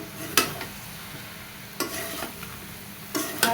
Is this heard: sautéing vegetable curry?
yes